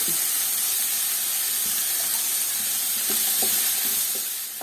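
Onions sautéing in a pan for a prawn masala, a steady soft sizzle with occasional stirring scrapes, continuous and fairly close.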